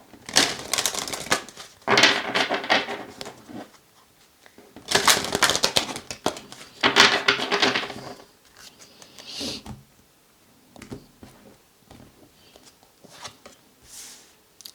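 Tarot cards are shuffled close by in several loud, crisp bursts of riffling and flicking, separated by short quiet pauses.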